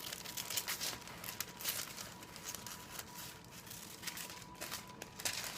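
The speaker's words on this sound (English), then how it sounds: "Get some scissors, and you just go along the line," Scissors cut a paper circle to line a cake pan, giving a soft, continuous crinkling and rustling of paper throughout, close and fairly quiet with no talking.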